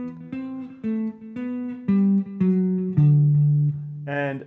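Guitar playing a haunting theme melody, a sequence of plucked notes over a sustained low bass, ringing clearly and close with a brighter chord at the end, and no talking.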